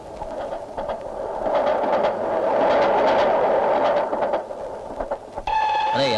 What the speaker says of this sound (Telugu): రైలు వచ్చేస్తుంది